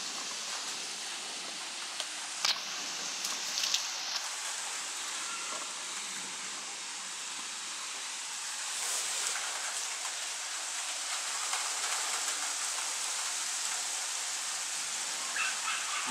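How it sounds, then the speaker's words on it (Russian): Steady rain hisses down during a June 2018 thunderstorm in Kharkiv, a continuous even wash of drops with one brief sharp knock early on and no clear thunder. "Да, соскучились мы уже за дождями."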